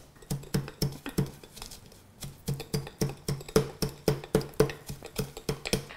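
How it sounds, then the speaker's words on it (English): Back of a wooden spoon mashing and bruising mint leaves for a matcha mint julep, a quick run of close, rhythmic knocks and dull thuds, around fifteen strikes with short pauses. "you can take the back of a wooden spoon and just mash it down"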